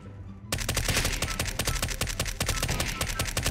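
Rapid MP5 submachine gun fire in CS:GO bursts in after a brief quiet start, a fast dense stream of loud sharp shots that carries on to the end.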